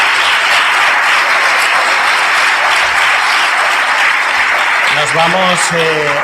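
Sustained applause from a forum audience thanking a host and three entrepreneurs at an internet business event, dense and steady throughout, with a voice starting to speak over it near the end.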